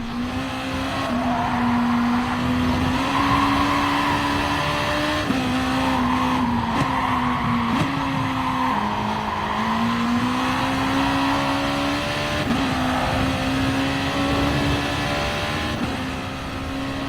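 Honda NSX GR.2 race car lapping Autopolis in Gran Turismo Sport, a loud continuous engine drone rising and falling through gear shifts, with tire squeal in the corners and no voices.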